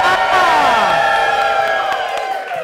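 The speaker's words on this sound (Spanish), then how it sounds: "Un aplauso para el equipo." A loud live audience cheers, whoops and shouts for a team, many voices rising together with high, sweeping yells over a constant crowd roar.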